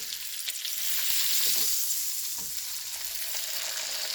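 Salmon sizzling in butter in a frying pan: a steady, close, bright hiss of frying fat with a few soft pops and crackles, heard alone without talk.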